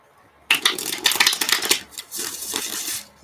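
Tarot cards are shuffled close by in a quiet room, a burst of rapid papery riffling and flicking that starts suddenly and runs for under three seconds, with no voices.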